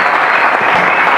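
A church congregation applauds together after a blessing prayer, a dense, steady clapping that fills the whole short moment at close, loud level with no voices standing out.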